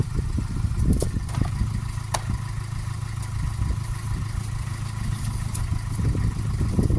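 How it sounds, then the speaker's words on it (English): A Mercedes Vito van engine idling steadily for an oil change, a low, even rumble heard close and alone, with a few faint clicks over it. "We're starting the engine to get the oil warm so it drains out easier"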